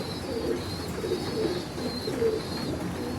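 Soft, repeated cooing of a pigeon, low and rounded, recurring steadily over a faint background hiss with no one speaking.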